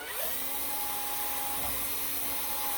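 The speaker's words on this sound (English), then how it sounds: "We're just going to drill this out now, and hopefully I can get it as centered as possible." A drill bores out holes in the roller assembly of a 1983 YZ490 motorcycle under restoration, producing a continuous, steady high-pitched whine with a constant tone throughout, heard alone without talk.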